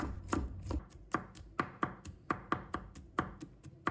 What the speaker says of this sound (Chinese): 再准备一把大蒜，把它切成片。 再切成末。